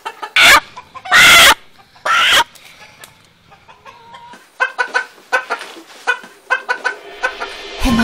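A few loud, sharp squawks at the start, then a chicken's rapid, uneven clucking continues nearby in short bursts.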